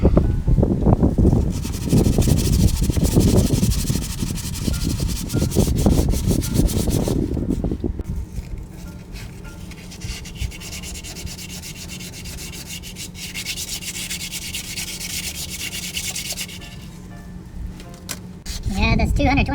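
Hand sanding with 220-grit paper on a 1964 Dodge Custom 880, a steady close scratchy rubbing that runs continuously and softens partway through, with wind noise around it.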